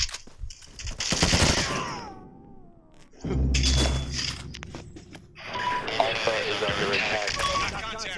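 Gunfire in the mobile shooter game Fire Front, rapid automatic bursts mixed with game effects and voices talking over the action.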